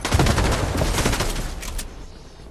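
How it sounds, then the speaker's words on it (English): Machine gun fire in the Fortnite video game comes as a dense, loud burst of rapid rattling shots that trails off over a couple of seconds, with no talking. "machine gun?"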